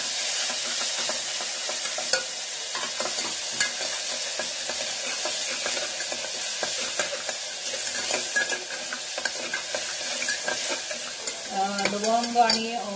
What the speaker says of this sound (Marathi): जिरे चांगले तडले की मग त्याच्यामध्ये जे आपण लसूण, आलं आणि कोथिंबीरची पेस्ट केली ते याच्यामध्ये